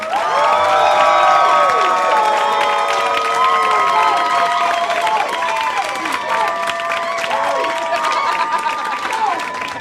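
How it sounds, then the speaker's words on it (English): A live crowd at a pun competition night erupts in loud cheering, whoops and applause for a contestant, sustained at full volume for about ten seconds with excited voices shouting over the clapping. "If you think Andy should be the winner tonight, make some noise right now."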